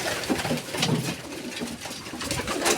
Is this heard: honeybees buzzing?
no